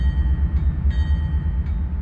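A diesel locomotive in the Open Rails train simulator rumbles low and steady as it begins to pull away, with faint repeated high tones, probably its bell, over the engine drone and no speech.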